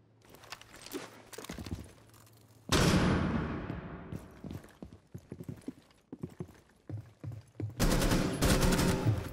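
Gunfire in Rainbow Six: Siege breaks out as loud bursts of rapid shots, a long rattling volley followed by quieter scattered clatter and another heavy burst at the end.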